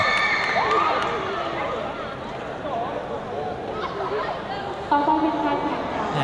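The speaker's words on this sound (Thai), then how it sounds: "เสียงกรี๊ดจากแฟนๆครับจากเพื่อนๆร่วมโรงเรียนครับที่มาเชียร์กัน" Boxing final crowd at a youth championship, fans and schoolmates cheering and screaming with steady hubbub and chatter, rising in bursts near the end; voices shout throughout.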